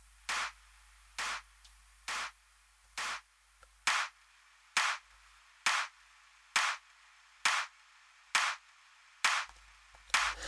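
A bright electronic clap sample in a progressive trance production, hit alone on a steady beat about once per second, eleven or twelve sharp, evenly clipped strikes with near silence between them.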